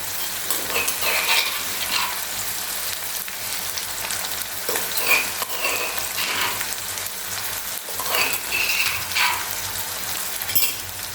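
Mashed eggplant for Khandeshi bharit fries in a pan as crushed ginger, garlic and green chili thecha is stirred in; a steady sizzle runs throughout, with louder scraping surges from the spoon every few seconds.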